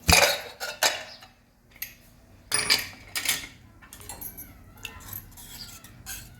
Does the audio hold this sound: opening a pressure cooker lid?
yes